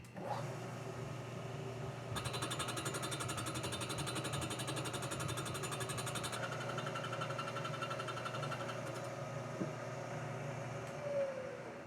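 A valve-seat cutting machine grinding metal from an Aermacchi Big Bore motorcycle cylinder head, a steady loud mechanical whir with a rapid high chatter that rises partway through and then eases, continuing alone without talk.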